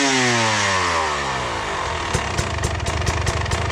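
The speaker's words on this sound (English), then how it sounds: "That's how long the bike takes to naturally come to idle." An enduro dirt bike engine, loud and close, unwinds from high revs in a long falling whine that settles into a steady, lumpy idle with regular popping pulses.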